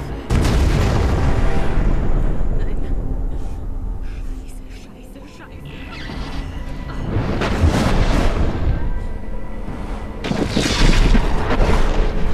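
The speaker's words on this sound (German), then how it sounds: "Los, sprengen! Sprengsätze zünden!" Explosive charges detonating in the video game Crysis: deep, heavy booms roll out in several loud bursts, the first at the start and later ones a few seconds apart, with rumbling tails between them and game voices mixed in.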